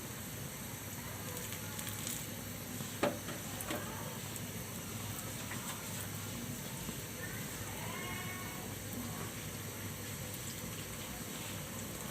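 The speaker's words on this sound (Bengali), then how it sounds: "বড়া ভাজবো পেঁয়াজও যেইভাবে আমরা ভাজি ঠিক এইভাবেই হবে" Fritters (bora) fry in hot oil, a steady, dense sizzle and crackle that holds evenly throughout at moderate volume, with one brief sharper pop early on.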